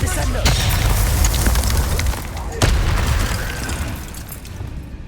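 Descendo spell in Hogwarts Legacy slamming an enemy down: loud, dense rumbling impact noise with two sharp bursts, early and midway, then a slowly fading roar amid ongoing game combat sounds.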